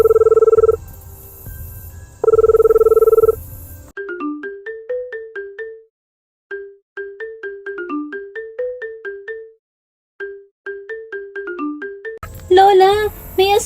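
A telephone rings in an animated horror-comedy: two loud, buzzy ring bursts, then a chirpy melodic ringtone repeats in short phrases before voices and other sounds break in at the end.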